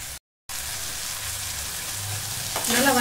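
Chopped ingredients sizzle steadily in a cooker for drumstick leaf rice, a continuous broadband frying hiss with a brief dropout near the start and a stir or clatter toward the end.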